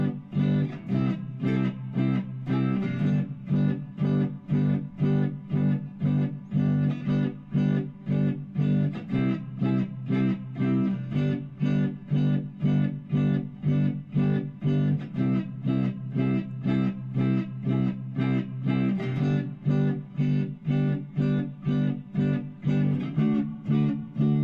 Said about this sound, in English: If I asked them to play the blues progression for me, it would sound something like this.